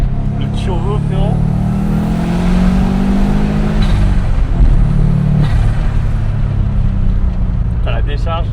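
A turbocharged Subaru Impreza GT engine with a forged motor revs and rumbles steadily close by for several seconds, with people talking over it and brief higher chirps near the start and end.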